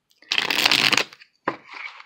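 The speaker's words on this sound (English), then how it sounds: "one more shuffle, and then we will look at the bottom of the deck" A deck of playing cards is riffle-shuffled during a tarot-style energy reading, giving a close, loud burst of rapid flapping, a brief pause, then a shorter second riffle and a softer settling of the cards, with no voices.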